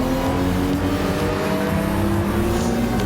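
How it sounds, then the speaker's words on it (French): A race car accelerates at full throttle along the Nürburgring straight, its engine roaring loud, steady and close for the whole stretch with no pauses. "Allez, pleine charge dans cette ligne droite."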